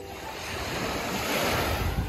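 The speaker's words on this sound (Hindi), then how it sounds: "अभी तो समुंदर काफ़ी शांत लग रहा है," Calm sea waves wash onto Jumeirah beach in Dubai at night in a steady, soft surge that builds slightly, with some wind noise and no voices.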